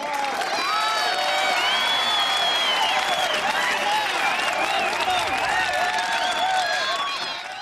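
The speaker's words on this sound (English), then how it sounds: "So a round of applause, please." An audience at an online global assembly gives a round of applause, with sustained clapping, cheering and whoops mixed into a steady, dense crowd sound lasting several seconds.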